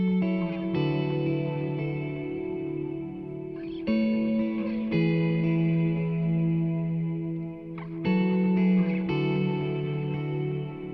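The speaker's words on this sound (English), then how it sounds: "Nothing special by themselves, but when they're layered on top of each other, they sound like this." Several layered electric guitars play sustained, effect-laden riffs together, a thick chorused tone shifting chords every few seconds, with no voices.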